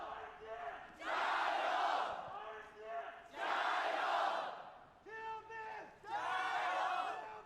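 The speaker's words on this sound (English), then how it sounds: "Already, you can hear the crowd." A large stadium crowd at a League of Legends semi-final roars in loud surging waves of cheering and chanting, swelling and fading several times, with a commentator's voice faintly beneath.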